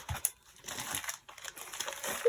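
Crinkling and rustling of a thin plastic diamond painting kit package being handled and pulled open, in irregular bursts up close.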